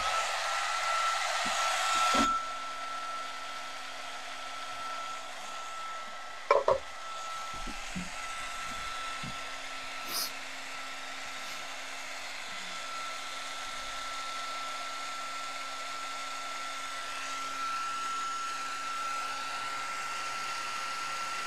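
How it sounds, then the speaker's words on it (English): An embossing heat tool blows a steady, loud hissing whir over embossing powder while making a card, running continuously with a few brief clicks and knocks of handling. "I'm gonna get my heat tool warmed up."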